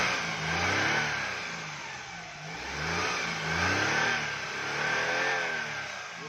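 A Suzuki Cultus car engine revs in repeated smooth surges after a misfire repair, running steady and close with no stumbling, the pitch rising and falling across several throttle blips.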